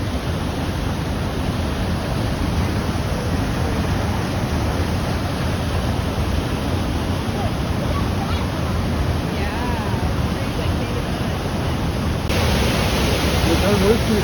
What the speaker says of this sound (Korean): 아주 급한 물살이 이렇게 흘러나가면서 물보라를 느끼고 있습니다